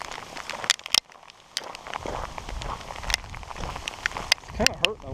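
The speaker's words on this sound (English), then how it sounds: "And more hail." Hail pelts down on an open mountain trail at Slate Mountain near Flagstaff, Arizona, scattered sharp ticks and louder cracks peppering a faint background, close and irregular, with occasional sounds of someone nearby.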